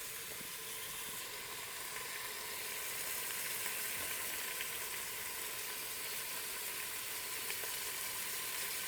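Beef browning in a pan for Korean beef, giving a steady, faint sizzle and hiss of frying that runs throughout without pause and with no voices.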